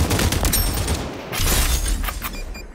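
Sniper gunfire rattles through a video game firefight, a dense run of sharp cracks and bursts filling the scene at close range with no voices over it.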